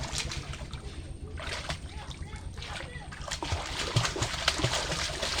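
A child learning to swim in a river splashes and kicks the water close by, with irregular bursts of splashing under people talking.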